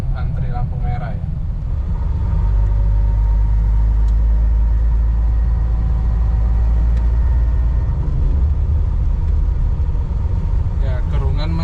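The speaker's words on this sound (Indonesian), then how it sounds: "gerungan mesinnya jauh berkurang daripada sebelumnya" Low, steady engine idle of a Toyota Land Cruiser heard from inside an upgraded, sound-deadened cabin while waiting at a red light; a dull continuous rumble with a person speaking briefly at the start and end.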